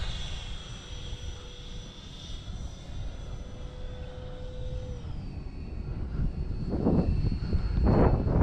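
An E-flite FJ-2 Fury RC model jet flies past with a steady, fairly faint whine that builds louder toward the end as the plane passes closer.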